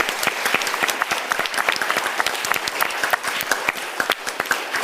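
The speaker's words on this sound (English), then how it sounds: "So please join me in giving the panel a big round of applause." A peace conference audience applauds a panel discussion with brisk, full clapping from many hands, a busy and evenly sustained patter that stays loud for the whole stretch.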